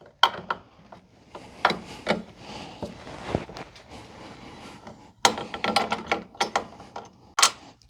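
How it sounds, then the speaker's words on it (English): A bolt being loosened with a hand tool during assembly of a Yarbo autonomous snow blower: close, irregular clicks and scraping metal turns in uneven bursts, with quieter gaps between. "So first I'm going to loosen up this bolt here."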